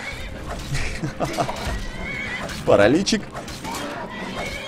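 Horse in Skyrim whinnying loudly once in a short wavering neigh, heard near and under someone speaking Russian amid game combat sounds.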